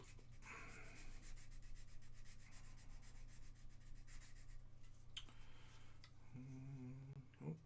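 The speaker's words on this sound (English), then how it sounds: "I'm sanding it" Quiet, rapid scratchy rubbing of sandpaper against a small plastic Gunpla model kit part, continuous strokes with a brief pause near the end.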